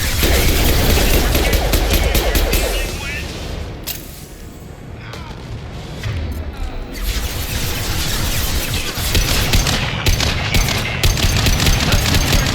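Sustained, dense gunfire and explosive booms from the video game Mass Effect 2 Legendary Edition on Xbox Series X, loud and continuous with a brief lull in the middle before heavy firing resumes.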